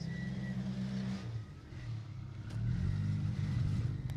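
A V6 rally car engine on a closed rally stage at the Nicky Grist Stages 2025, thumping with a deep, steady rumble that swells louder toward the end.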